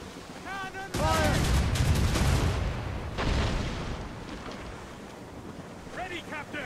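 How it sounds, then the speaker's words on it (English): Ship cannons boom in Assassin's Creed Rogue, a loud burst of heavy gunfire and rumbling blasts amid ocean wind and waves, with shouted crew voices before and after. "Cannon!"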